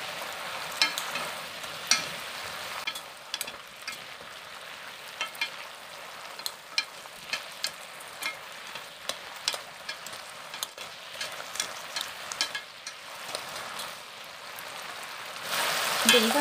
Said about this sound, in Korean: 물엿을 넣고는 이렇게 바싹 졸여주세요.